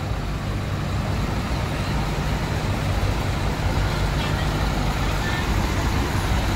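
An Eka executive-class intercity bus from East Java roars past, a loud, continuous close-up rumble of engine and tyres mixed with steady traffic noise.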